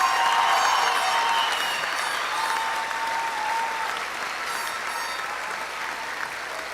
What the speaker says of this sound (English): A round of applause for all of our winners.